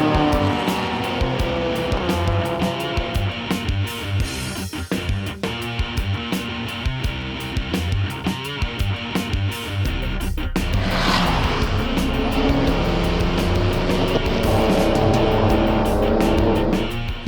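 Race car lapping a track during an endurance session, engine droning loudly and continuously with gear changes, a car rushing past partway through, no talking.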